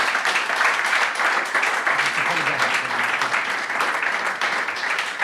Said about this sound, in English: give a round of applause to our amazing panel